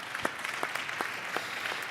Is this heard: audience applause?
yes